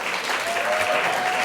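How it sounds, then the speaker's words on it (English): Steady applause from an audience, a dense wash of clapping hands that holds at an even level throughout. "let's give a huge round of applause"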